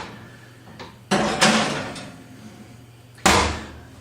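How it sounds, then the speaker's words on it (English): An oven door clunks open and thuds as a gluten-free, lactose-free lasagne goes inside, giving several sharp knocks and bangs in a quiet kitchen with short gaps between them. "So I'm just going to open the oven and pop this inside."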